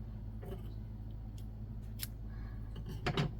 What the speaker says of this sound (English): I'm gonna cut a bit of yarn here